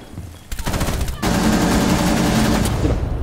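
Rapid video game gunfire in a bursting volley, loud and close, starting softly then swelling into a dense, continuous barrage for several seconds, with faint game noise underneath.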